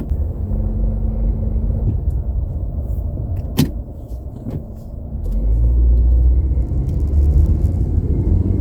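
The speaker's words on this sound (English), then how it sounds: "Car coming." A 2002 Toyota Corolla with faulty brakes rumbles past close by, its engine noise swelling toward the end, with a brief thump midway and steady road rumble throughout.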